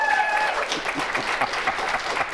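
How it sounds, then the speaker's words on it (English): Steady audience applause at a live talk event, a dense field of clapping with a few louder individual claps and some whoops, continuing throughout at moderate volume. "Let's applause for that"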